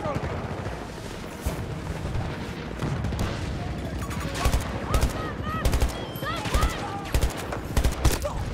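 Sniper rifle shots crack out in an online shooter video game, several sharp reports separated by short gaps, loud over a busy bed of in-game noise.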